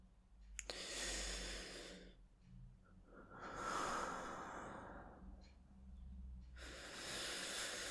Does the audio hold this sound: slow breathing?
yes